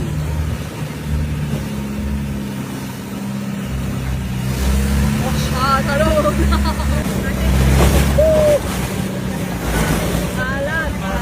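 A private motorboat ride in Thailand, its engine droning loud and steady with water rushing and wind buffeting close by, while voices talk and call out over the noise.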